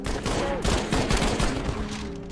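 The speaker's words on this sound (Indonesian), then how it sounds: "Tiba-tiba kedua petugas saling melepaskan tembakan." Two officers in a film scene exchange a rapid flurry of gunfire, overlapping loud cracks and bursts filling the whole stretch without pause.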